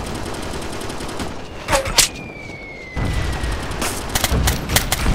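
Gunfire rattles in the military shooter Operation Flashpoint: Red River, with loud, dense automatic bursts and single cracks. A brief lull is followed by renewed rapid fire, set against constant battlefield noise.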